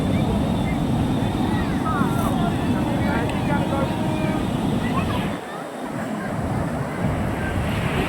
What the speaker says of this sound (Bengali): এত সুন্দর হাওয়া, এত সুন্দর ঢেউ।